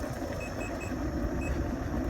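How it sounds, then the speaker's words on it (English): A GotWay ACM electric unicycle sounds a series of short, evenly spaced high warning beeps, about four in quick succession, over a steady loud rush of wind and motor noise while riding. "it beeps at you for low battery"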